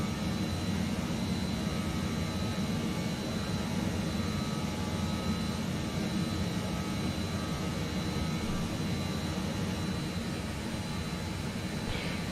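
Steady roar of a jet airliner cruising at about 375 knots in Microsoft Flight Simulator 2020, a continuous broadband rumble with faint high whine, even and unbroken throughout.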